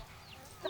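A single soft cluck from a chicken, faint and brief against quiet background noise.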